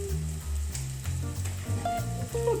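A soffritto with chili pepper frying in a pot gives a steady, close sizzle that carries on without a break, with no voices over it.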